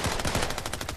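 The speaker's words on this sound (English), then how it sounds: "Oh wow, there's a lot of shots." Rapid automatic gunfire in the video game Fortnite, a dense continuous burst of shots firing in quick rhythm for the full second, loud and close with no talk over it.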